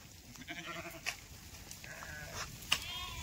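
A flock of sheep bleats from a distance, faint and scattered over a soft background hiss, with two or three sharper calls standing out briefly.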